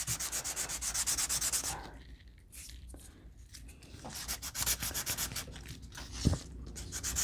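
Rhythmic back-and-forth scratching of sandpaper scuffing a journal window surface up close, pausing briefly in the middle before the quick strokes resume.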